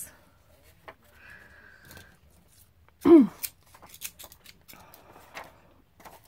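Scissors cut junk-mail paper in one crisp snip, followed by scattered soft paper rustles and clicks in a quiet room.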